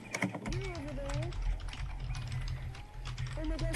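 Fast clattering keystrokes on a computer keyboard patter steadily throughout, heard close and fairly quiet beneath voices chatting over the typing.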